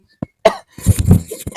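A man coughs several times in quick, harsh bursts, loud and close, with brief pauses between them.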